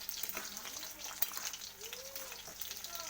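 Yogurt being stirred into an egg and cauliflower curry in a pan, a soft frying sizzle with scraping spoon strokes against the metal, fairly quiet and steady throughout.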